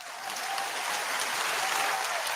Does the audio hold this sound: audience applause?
yes